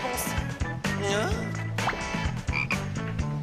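A frog croaks repeatedly in a classroom in an animated French series, with a voice speaking throughout alongside the croaks.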